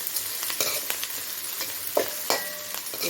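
Chopped green chillies sautéing in a pan with a steady crackling sizzle, stirred now and then with soft scraping knocks from a spoon, close up and with no talking.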